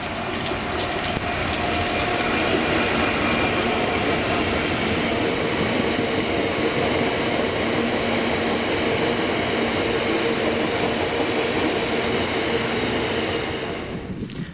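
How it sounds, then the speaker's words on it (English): A loaded cement train hauled by class 66 locomotive 66734 rolls by on a Scottish line, a steady loud rumble of wagons and wheels lasting several seconds before fading out abruptly at the end. "6Z03 Clitheroe to Mossen loaded cement train, with the return of 66734."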